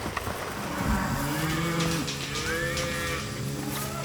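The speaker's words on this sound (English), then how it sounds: "Let's go move some cows." Cattle moo on a ranch, several deep, drawn-out lowing calls overlapping against a constant broadband outdoor rumble, some near and some farther off, with no talking.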